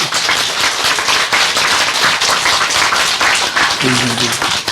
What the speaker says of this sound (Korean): 이 박수를 좀 쳐줘야죠